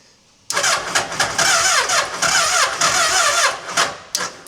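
A K11 Micra fitted with a Hayabusa motorcycle engine cranks on a weak battery, a loud, close, labored starter churn that begins abruptly and grinds on unevenly for several seconds without catching.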